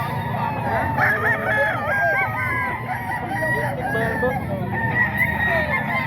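Roosters and gamefowl crow repeatedly at a crowded poultry sale in the Philippines, with several birds calling over one another among clucking and a busy background din.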